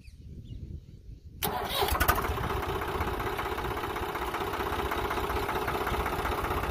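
A tractor engine cranks over and catches after a quiet moment, then settles into a loud, steady, close diesel idle that continues to the end.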